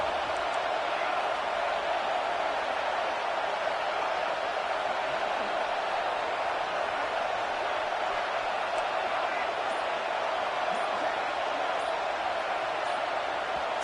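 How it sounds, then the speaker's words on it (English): A stadium crowd roars in the NCAA 26 college football game as the home defense lines up for a red zone stand, a steady, broad wash of noise under a commentator talking throughout. "And here comes the noise. This crowd is trying to inspire this defense to make a big red zone stop."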